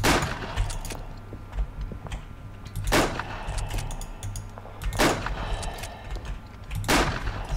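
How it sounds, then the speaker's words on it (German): Sharp gunshots from the World War I shooter game Verdun crack out at irregular intervals, several loud bursts over a low humming background with scattered smaller pops. "Keine Ahnung, von wo die Schüsse gerade kommen."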